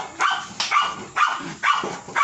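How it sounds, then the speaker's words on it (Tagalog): A dog barks five times in a steady rhythm, about every half second, each bark loud, sharp and close, with quiet gaps between them. "Ate, pasuyot ko ng aso."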